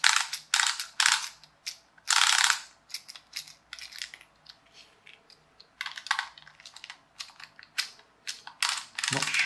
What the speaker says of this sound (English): it clicks over rather than breaking the gears